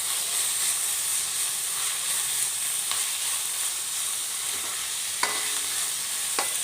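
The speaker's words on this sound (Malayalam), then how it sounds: "തേങ്ങ ചിരണ്ടി വെച്ചിട്ടുണ്ട്, അതും കൂടി അങ്ങ് ഇട്ട് കൊടുക്കാം. അതൊന്ന് ചെറുതായിട്ടൊന്ന് ഫ്രൈ ആവണം" Grated coconut and onion frying in a pan, giving a steady close hiss and sizzle with a few light scrapes and clicks of stirring near the end.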